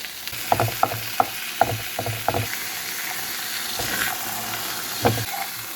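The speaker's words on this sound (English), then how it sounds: "I got my 2 sausages cooking here. Dump my onions right here." Italian sausages and chopped onions sizzle and fry in a pan with a steady crackle, broken by several sharp clacks from a utensil scraping and turning the food.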